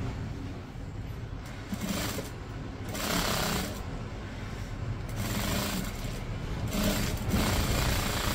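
A sewing machine stitches a prince-cut blouse with a close, rhythmic mechanical chatter that surges and eases in short bursts over several seconds.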